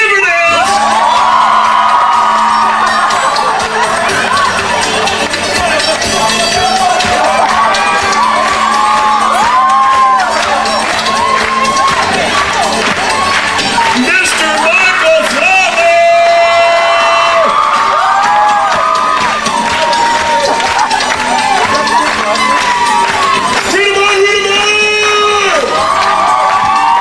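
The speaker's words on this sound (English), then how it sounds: "Please, welcome to the stage with an incredible round of applause" A big crowd at a high school grad night hypnotist show cheers, whoops and shouts continuously, with excited voices rising and falling over loud, sustained noise as dancers are welcomed to the stage.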